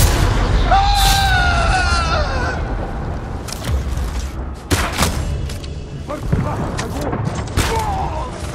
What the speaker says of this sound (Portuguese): a mina tremeu muito por causa de alguma explosão